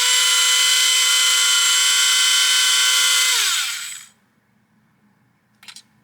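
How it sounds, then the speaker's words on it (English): Tamiya 74041 handy drill spinning up to drill tiny holes: a steady high-pitched whine that drops in pitch and winds down after about four seconds, followed by a brief faint clatter. "To drill little microscopic holes."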